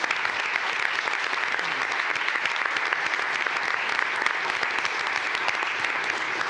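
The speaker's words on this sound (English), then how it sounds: "let's give them a big round of applause" A room full of people gives a sustained, loud round of applause for a boys state champion wrestling team at a county commissioners court meeting in Arlington, steady dense clapping throughout with no break.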